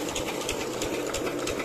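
An engine pumps water from a borewell, running with a steady, rapid mechanical chug that is moderately loud, close and alone.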